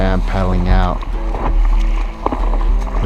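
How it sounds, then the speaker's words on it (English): A surfer paddles out on a surfboard through small waves at San Onofre, with water sloshing and wind rumble under steady nearby talking. "And here I am paddling out."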